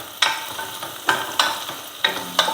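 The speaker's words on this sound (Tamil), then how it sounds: "வெங்காயம் ஒரு 2-3 நிமிஷம் நல்லா வதங்கிடட்டும்." Shallots sautéing in a pan for quail gravy: a soft sizzle broken by about six sharp, rhythmic scraping strokes of a spatula stirring the pan.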